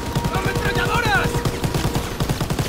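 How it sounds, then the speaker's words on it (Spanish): Rapid bursts of machine gun fire in a Call of Duty WWII battle at Falaise, a steady rattling run of shots under excited shouting voices and other game noise. "¡Ametralladoras!"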